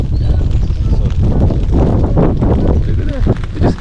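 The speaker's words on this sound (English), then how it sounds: "It's very windy right now." Strong wind buffets a microphone outdoors in a grassy area where a deer grazes, a loud continuous low rumble with gusty swells throughout, and the speaker's talk appears partly mixed in.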